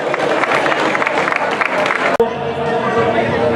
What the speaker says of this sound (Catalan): Un aplaudiment pels corredors.